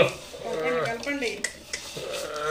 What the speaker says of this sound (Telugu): కిందకి మీదకి ముక్కలు అంతా బాగా కలపాలన్నమాట